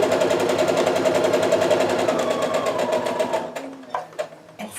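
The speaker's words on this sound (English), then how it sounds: "I'm going to sew all the way down" A sewing machine stitches fabric along a drawn line in a fast, even, close-up hum that runs steadily, then stops with a few soft clicks and handling sounds.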